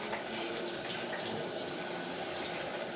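Water running and splashing steadily as an AeroGarden base is rinsed out, a continuous broadband rush with no pauses across the whole stretch, close and fairly quiet.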